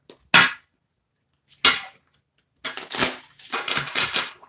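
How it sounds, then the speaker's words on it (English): A deck of tarot cards is shuffled close up in short, crisp riffling bursts: two quick separate flicks followed by a longer, uneven run of riffles and taps. "give me a minute, guys, while I shuffle my cards on the deck"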